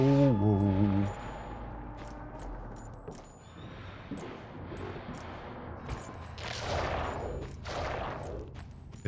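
Dual pistols fire in the video game Rootin Tootin Vampire Shootin, a rapid scatter of sharp gunshot cracks in quick irregular bursts, close and loud, mixed with game sounds while a person talks over them.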